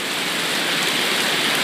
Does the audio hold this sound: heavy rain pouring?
yes